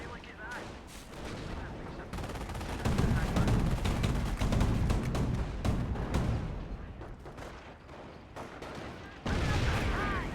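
Gunfire in a Company of Heroes 1 match: dense, continuous volleys of rifle and machine-gun fire mixed with heavier artillery-like thumps. The sound stays loud and busy throughout, with a sharp surge near the end.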